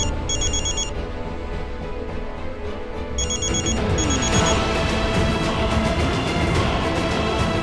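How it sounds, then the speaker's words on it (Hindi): A phone rings in short repeated bursts of high electronic tones, loud and close, over a dense, busy background of noise. "ये इन्हीं का फोन है और शायद कब से बज रहे हैं।"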